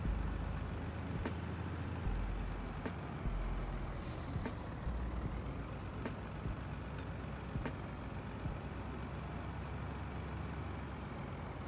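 Heavy TLX truck engine in a farming video game, hauling a trailer in early winter, a steady low droning rumble with periodic air-brake-like hisses and clicks, continuous and fairly loud with no talk.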